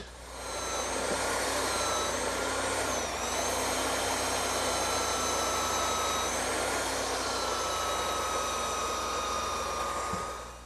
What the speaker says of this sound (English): Now I'm going to take all these pieces out and sand the plugs and the saddle.